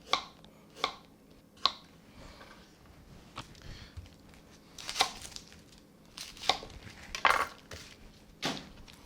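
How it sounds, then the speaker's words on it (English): A knife chopping carrots and ginger on a board, with irregular sharp chops, some isolated and some in quick pairs, fairly close among quieter rustling, no voices. "I'm just going to cut the carrots."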